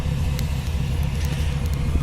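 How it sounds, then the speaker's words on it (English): A blue and white 1956 Mercury car's engine idles quietly with a low, steady rumble close by, broken by a few faint ticks and clicks. "Listen to how nice and quiet that engine runs."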